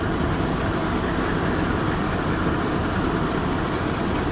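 A four-engine CN freight train in Kimball Township, Michigan, rumbles steadily as it moves off, with continuous loud wheel and engine noise and no talk.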